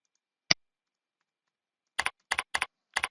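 Keys tapped on a computer keyboard while entering a surname, one isolated click followed after a pause by a quick run of four paired keystrokes, close and crisp in an otherwise silent room.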